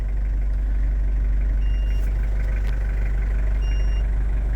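A Toyota Hiace 4WD truck's engine idles with a loud low rumble while its dashcam, lacking an SD card, gives two short, faint double beeps a couple of seconds apart.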